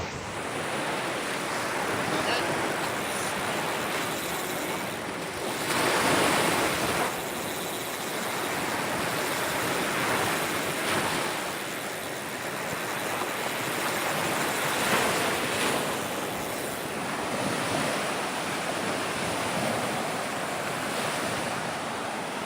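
Ocean surf washes in continuously at a beach where an RC fishing boat is being run, broad rushing waves swelling and easing in slow surges over about twenty seconds, with wind buffeting the microphone and no talk.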